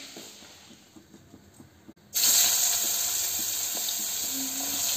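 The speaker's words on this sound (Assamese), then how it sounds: "পিঁয়াজটো অলপ ৰঙাকৈ ভাজি লৈছোঁ" Chopped onions start frying in a hot pan, a sudden loud sizzle that begins midway after quiet kitchen sounds and then holds steady as a continuous hiss.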